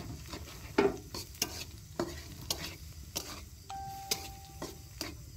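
An egg fries in oil in a pan at an outdoor picnic, with a continuous soft sizzle broken by repeated scraping stirs and clicks of the utensil, and a short electronic beep near the end.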